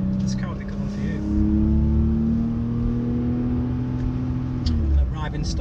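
A four-wheel-drive Porsche on the road, engine note holding steady with a smooth automatic downshift, close and fairly loud, with people talking over it.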